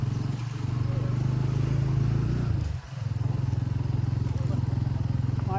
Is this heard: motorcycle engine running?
yes